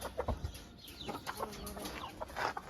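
Chickens in a poultry pen cluck softly and intermittently nearby, short irregular calls over a low, steady background hum.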